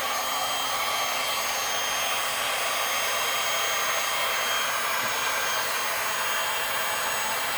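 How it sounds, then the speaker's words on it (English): A heat gun on high fan and medium heat blows steadily while resin is worked on a beach-themed painting, a loud, even, close hiss-roar that holds without a break and with no talking. "So this heat gun has some different settings. I'm going to use it on high fan here and like a medium heat."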